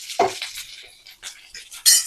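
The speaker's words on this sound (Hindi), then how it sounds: "इनको भी कलर चेंज होने तक भूनना है।" Onion and capsicum stir-fried in a pan for chilli paneer, a few quick metallic scrapes and clinks of a spatula over a faint sizzle, close and brief.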